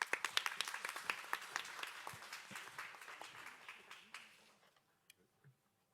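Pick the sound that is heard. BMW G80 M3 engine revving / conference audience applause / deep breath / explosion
conference audience applause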